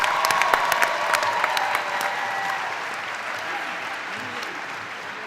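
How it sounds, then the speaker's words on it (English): An audience at a university fall commencement applauds the bachelor's degree recipients, and the steady clapping fills the hall before slowly thinning out, with no voices over it. "Could we have one more round of applause for the bachelor's degree recipients"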